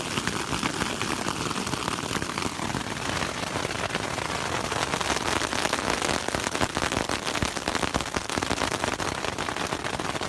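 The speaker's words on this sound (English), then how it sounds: "Pretty good hailstorm going on right now." Hailstorm high in the Colorado mountains at about 11,800 feet, a dense, loud, continuous clatter of hailstones striking close by, with sharp irregular ticks and pops throughout.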